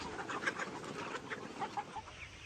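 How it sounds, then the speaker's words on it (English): Label Rouge chickens out in a tree-shaded field cluck and chatter softly, scattered short calls at moderate distance over a quiet outdoor background, no talk. "These are Label Rouge chickens, released from their night quarters into fields where tree cover mimics their natural forest habitat."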